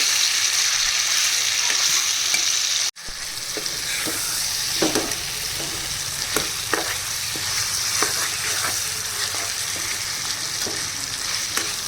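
Chicken biryani meat is stirred in a hot pan, a steady sizzle and fry under repeated scraping strokes of a spoon, with a brief dropout near the start and the frying close and continuous.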